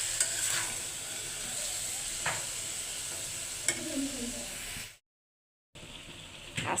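Pumpkin bhaji frying and being stirred in a pan, a close, continuous sizzle broken by scraping spoon strokes, briefly cutting out before the sizzling resumes.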